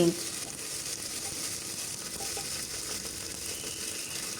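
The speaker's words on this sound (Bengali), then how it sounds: "এখন একটু নাড়াচাড়া করে মশলাটা ভেজে নিচ্ছি" Ginger garlic paste fries with spices in a pan, a steady, fairly loud sizzle with a brief clatter at the start and no talking.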